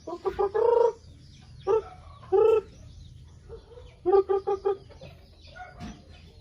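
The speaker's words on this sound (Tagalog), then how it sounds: "Chicken!" Chickens cluck in short bursts, several quick clucks at a time with pauses between, fairly close against a low background hum.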